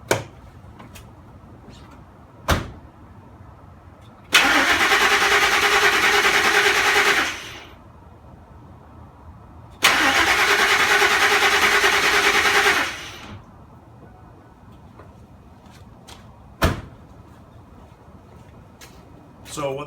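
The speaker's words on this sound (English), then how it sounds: "So what they call that is it's turning over, but it's not catching." A car engine with a suspected failing fuel pump cranks twice without starting, each whirring, rhythmic turnover lasting about three seconds, loud and close, separated by quiet gaps with a few sharp clicks.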